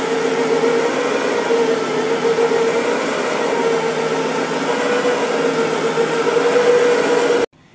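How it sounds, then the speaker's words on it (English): A Brush Pro carpet cleaner with two counter-rotating brushes runs steadily at close range, giving a loud, continuous whirring drone with a faint tonal hum, used on rug carpets before cutting off abruptly near the end. "It's got two counter-rotating brushes, and it's, again, excellent at removing dry soil from carpets."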